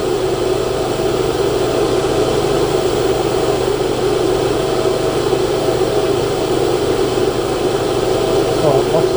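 Inverter generator engine runs at a steady drone, loud and continuous throughout with a constant low hum and no change in pace.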